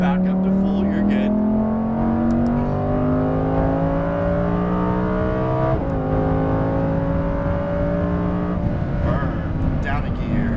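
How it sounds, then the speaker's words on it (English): A Lamborghini Huracan Performante accelerates hard on a race track, its engine note climbing loudly and steadily through the gears, with a brief shift dip midway before the pitch rises again; talk is heard over the engine. "Back up to full, you're good."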